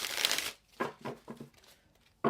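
Crisp riffling of playing cards being shuffled, a loud burst at the start followed by a few softer flicks and another sharp riffle at the end.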